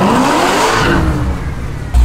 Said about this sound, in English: Definitely the one thing Dodge got right is the noise.